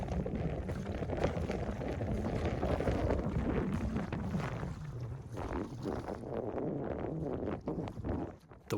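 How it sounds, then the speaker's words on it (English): Strong wind roars and buffets the microphone steadily while a wooden skiff is rowed along a cove shore, with faint water sloshing and knocks beneath the loud gusting. "The wind is really wailing"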